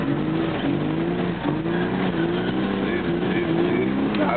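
A drifting car at the Weeze circuit, heard as a continuous engine drone that rises and falls with revving. The engine stays steady and fairly loud throughout, and voices mix in faintly underneath.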